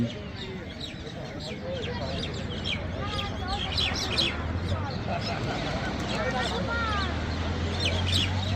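Many small birds chirp and call busily around houses at Kuakata beach, mixed with a background murmur of voices and a low hum.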